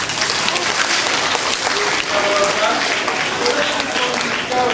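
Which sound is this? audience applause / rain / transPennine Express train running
audience applause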